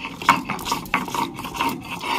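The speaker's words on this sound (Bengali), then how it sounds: "আদা রসুনটা আমি বেটে নিচ্ছি।" Ginger and garlic are ground into a paste with a rough, rasping rub repeating in short uneven strokes, close and moderately loud.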